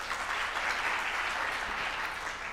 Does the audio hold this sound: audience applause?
yes